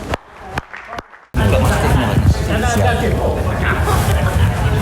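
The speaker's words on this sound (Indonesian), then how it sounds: "Sekali lagi tepuk tangan" Applause fills a hall at a MURI world record award ceremony in Indonesia, bursting in loudly after a couple of seconds of quieter room noise and holding steady as dense clapping with crowd murmur.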